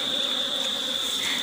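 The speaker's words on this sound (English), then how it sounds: "they're really active, they're flying about" Honey bees flying actively around a beehive frame during a hive split in Jamaica, a steady close buzzing drone that holds evenly throughout, with no talking.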